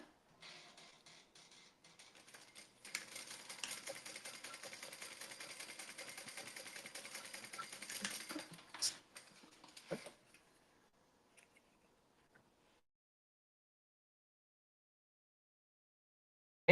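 A sewing machine stitches a fabric seam joining a bag base to a gusset piece, a close, steady whirring run of rapid needle strokes lasting several seconds before stopping, followed by a few faint clicks and near silence.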